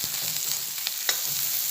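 Onion leaves with turmeric powder frying in a pan, a steady close hiss of sizzling oil with a few faint scrapes and taps of stirring, no talk.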